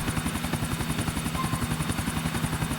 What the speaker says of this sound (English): this is actually the first mission in which you fly a chopper